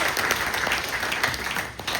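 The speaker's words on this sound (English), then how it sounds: "Round of applause for Chris, everyone." Applause from a conference audience at a tech keynote, a short burst of steady, fairly dense clapping heard up close and evenly sustained throughout.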